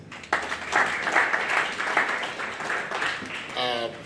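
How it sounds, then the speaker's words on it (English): Audience applause at an electoral commission media training session, a dense steady clapping that fills the room and runs throughout, with a voice rising briefly near the end. "Another round of applause, please."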